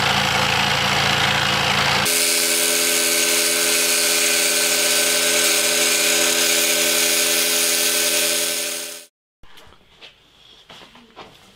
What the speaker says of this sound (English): I think it's actually the Shepatch scroll saw